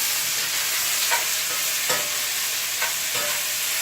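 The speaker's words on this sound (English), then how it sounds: "we're going to get all our veggies fried up" Vegetables for coconut curry shrimp fry in a pan, a loud, continuous hiss of sizzling oil with occasional soft stirring scrapes, close and steady throughout.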